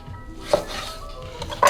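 A knife slicing down through a fresh mango for a drink garnish, giving a few light cutting clicks and taps on a board, the last one sharp and close.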